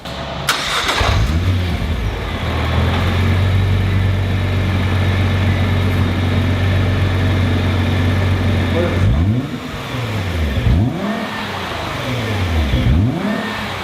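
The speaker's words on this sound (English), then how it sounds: "We're gonna do a stock exhaust rev" A Nissan R35 GTR on its stock exhaust starts and settles into a steady idle, then gives several sharp revs that rise and fall near the microphone, with people talking over it.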